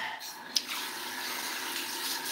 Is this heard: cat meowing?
no